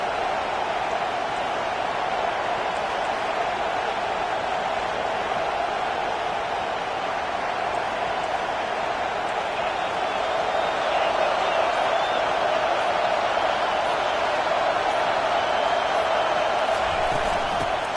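A college football stadium crowd roars steadily as the home fans try to keep the opposing offense pinned deep in its own end, a dense, continuous wash of distant cheering with no distinct breaks.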